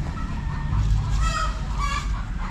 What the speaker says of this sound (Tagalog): mahapon na naman yung mga manok